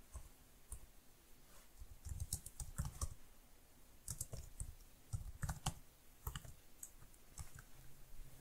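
Computer keyboard typing in quiet, close irregular bursts of soft key clicks with short pauses between groups.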